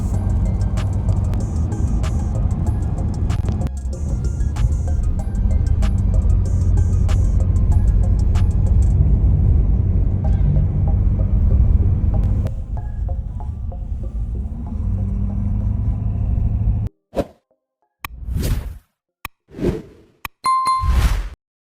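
Ford F-350 pickup towing a trailer, a steady loud low road rumble and engine hum for most of the run, with rain beginning, then breaking into short separate bursts of sound toward the end.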